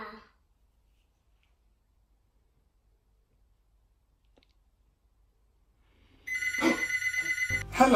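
A toy telephone rings after long near-silence, its electronic trilling bell starting late and running loud and steady until the end, preceded by a brief voice at the beginning.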